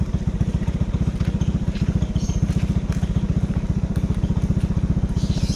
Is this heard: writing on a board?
no